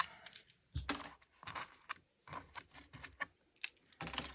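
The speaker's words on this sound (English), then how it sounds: "So now take my counters off." Small plastic counters are lifted off a ten frame and dropped, giving scattered light clicks and clatters in short bursts across a few seconds, close and fairly quiet with no talk.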